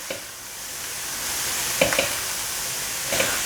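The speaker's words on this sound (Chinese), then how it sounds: "继续翻炒。" Shiitake and king oyster mushrooms stir-fried in a wok give a steady, close sizzle, with a few soft scrapes and clinks of the spatula against the pan.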